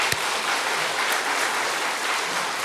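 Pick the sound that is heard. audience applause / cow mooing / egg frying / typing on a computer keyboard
audience applause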